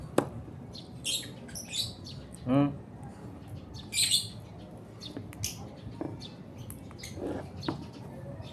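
Pet birds let out short, sharp chirps and squeaks in scattered bursts while being fed sunflower seeds, with people talking softly close by.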